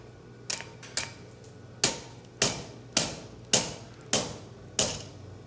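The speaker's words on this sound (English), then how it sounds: "now we take the little hammer and we kind of tap things around" A small hammer taps metal at a blacksmith forge during a smithing conference demonstration, striking about nine sharp, evenly paced blows close by, each with a short ringing decay, and no talk.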